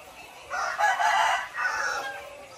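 Layer chickens in a poultry house, a building of layer cages, give a couple of clear, fairly close crowing calls with clucking, over a low hum of background noise.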